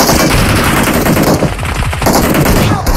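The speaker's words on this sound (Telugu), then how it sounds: "ఈ షార్ట్ గన్ ఒక్కడిని కొట్టాను సరిపోతుంది" Shotgun fire in a video game squad battle: loud, rapid overlapping gunshots in a continuous barrage with dense chaotic gameplay noise throughout.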